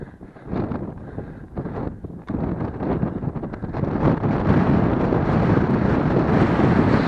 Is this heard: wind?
yes